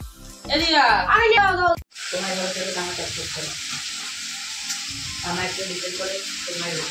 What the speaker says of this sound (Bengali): ও আলু ভাজছে, আলু ভাজা দিয়ে ভাত খাবে